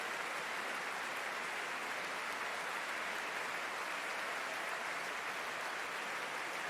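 Audience applause fills the Royal Albert Hall for the National Youth Orchestra of the USA at the BBC Proms, a dense, steady wash of clapping from a large crowd throughout.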